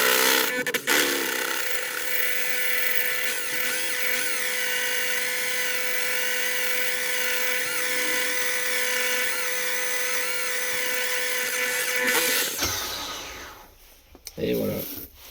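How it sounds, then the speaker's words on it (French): A drill bores a 12 mm hole in the jaws of a Redtech pulley, a loud continuous high whine held steady for about twelve seconds before it cuts off into short clatters and handling noise. "maintenant on va passer au perçage à 12"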